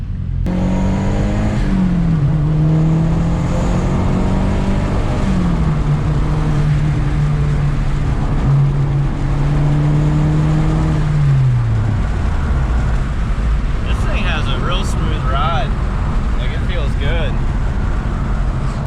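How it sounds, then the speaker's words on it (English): A 2013 Mazda Speed 3 engine hums and revs, its pitch rising and falling as it drives, with people talking over the steady road noise. "this is his 2013 Mazda Speed 3"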